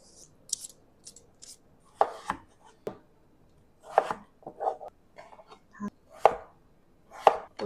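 Knife chopping potatoes on a cutting board for soup, a run of sharp, uneven taps close by, some in quick pairs, separated by brief pauses with no talking.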